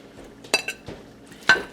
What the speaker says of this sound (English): So let's dish Daddy up some of that bacon.